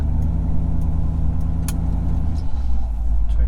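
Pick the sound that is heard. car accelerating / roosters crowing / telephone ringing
car accelerating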